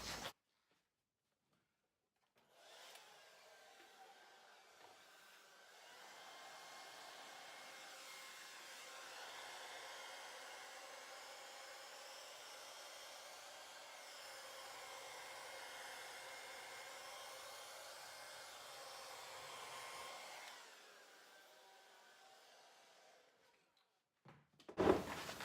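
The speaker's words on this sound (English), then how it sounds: "Let me try my blow dryer." A blow dryer runs steadily for about eighteen seconds, blowing across a fluid-art ring pour of satin and metallic paint mixed with water and pouring medium, a soft continuous whoosh, with a brief click at the end.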